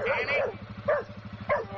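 American Pit Bull Terrier in a kennel yard letting out three sharp barks with pauses between them, fairly close, over a low steady rumble.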